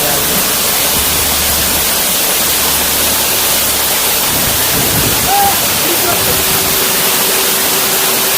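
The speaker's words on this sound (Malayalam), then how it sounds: "സൂപ്പർ വെള്ളച്ചാട്ടമാണ്" A waterfall at Paloor Kotta, a hill fort area, roars loudly and steadily as a broad rushing wash of water, close and unbroken, with no voices.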